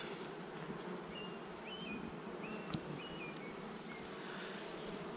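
Honey bees buzz steadily during a hive inspection in a Homehive system, a dense close drone filling the whole stretch, with a few faint high chirps and one brief knock, no talking.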